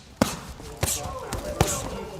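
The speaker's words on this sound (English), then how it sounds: "This is what punches from heavyweight boxers sound like." Heavyweight boxers' punches land in a boxing match, three sharp thudding impacts spaced roughly evenly apart, fairly close and loud, with a voice murmuring faintly in the background.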